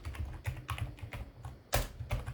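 Rapid clicking of computer keyboard keys with one heavier keystroke near the end like Enter being pressed, close and fairly quiet with a steady typing rhythm and no talking.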